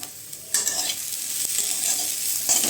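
Chopped ingredients, including onions, fry in a pan, with a sizzle that surges loudly as they hit the hot oil and then continues steadily, with a stirring knock partway through.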